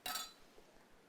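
A single bright glass clink rings out as wheatgrass juice is poured into glasses, quick and close, then fades into quiet room noise.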